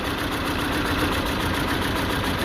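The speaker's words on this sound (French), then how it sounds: "Je crois qu'il faut démarrer le moteur." A Peugeot 206 1.6 16V engine runs steadily close by, its shaky idle a continuous mechanical drone with a busy rattling texture that holds at an even level throughout.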